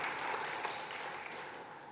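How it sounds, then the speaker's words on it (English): Conference audience applauding the speakers, a dense steady wash of many hands clapping at a distance in a hall, continuous and fairly soft throughout. "Another round of applause, colleagues, for the 3 speakers."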